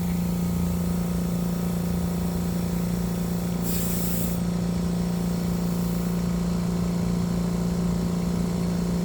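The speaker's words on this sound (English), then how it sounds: "Tire's coming up. Getting some air in there." An air pump inflates the flat rear tire of a Yamaha YZF-R1M with a constant, close electric drone and steady hiss. A brief louder hiss rises midway, and no voices are heard.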